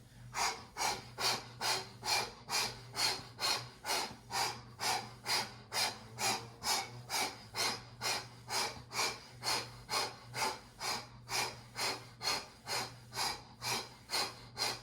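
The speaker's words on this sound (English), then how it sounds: "Let's bring in the breathing." Deep, rhythmic breathing during a yoga exercise, strong inhales and exhales repeating at a steady pace of about two per second, close and loud with no talking.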